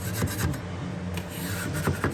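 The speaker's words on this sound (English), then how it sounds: "I take my knife, square it up, get some chunks out there." A drywall knife scrapes chunks out of a drywall corner in close, dry, rasping strokes. The scraping is moderately quiet and continuous with no talk.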